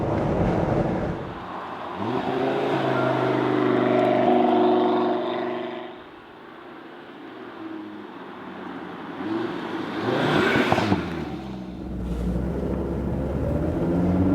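A 2017 Audi TT RS convertible with a 400 hp five-cylinder engine drives along country roads, its engine droning and rising through gears with wind rush, loud and continuous throughout.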